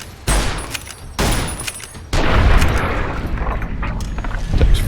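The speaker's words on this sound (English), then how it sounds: "Takes 4 shots for a gecko." A gun is fired at a gecko in Fallout: New Vegas. Three loud, close shots ring out about a second apart, and rumbling booms and battle noise follow.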